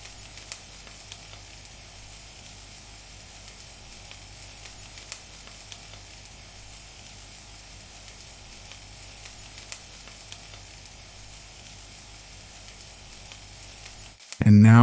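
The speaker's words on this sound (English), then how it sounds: "And now just keep mixing until all the ingredients are combined." Fried rice sizzles in a pan during steady stirring, giving a constant hiss that runs unbroken before a sudden loud knock at the very end.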